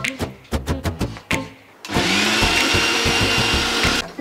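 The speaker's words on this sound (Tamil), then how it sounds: "இஞ்சி பூண்டு பேஸ்ட் அரைச்சாச்சு" A kitchen mixer grinder whirs through ginger garlic paste in a continuous loud grinding drone after a series of short pulsed bursts, close and dominant, with no talking.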